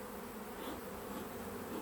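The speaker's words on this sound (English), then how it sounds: "And this hive is absolutely full of bees now." Honey bees in a full Langstroth hive give off a dense, steady buzzing hum that stays close and even throughout, with no pauses.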